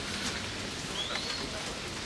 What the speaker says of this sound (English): It's not pouring down rain, but it's just like the usual rain.